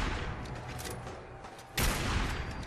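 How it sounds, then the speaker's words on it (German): A burst of rapid gunfire in Fallout 4 erupts over a dense, noisy background of game sound effects, with a louder blast near the end. "Noch ein paar Schüsse."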